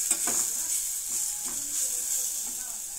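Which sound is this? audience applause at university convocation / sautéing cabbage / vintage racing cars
sautéing cabbage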